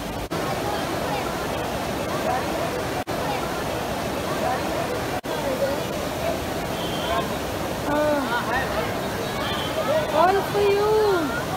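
River water at Rishikesh rushes steadily in a broad, continuous wash while people talk nearby over it.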